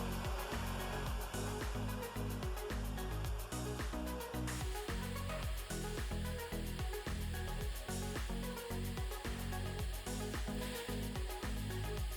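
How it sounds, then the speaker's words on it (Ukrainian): A continuous blowing whir from a BAKU BK878L hot air soldering station heating to about 330 degrees, steady and noisy throughout, with some faint scraping or rubbing sounds mixed in. "беремо наш фен і Чекаємо, поки він набере 320 градусів"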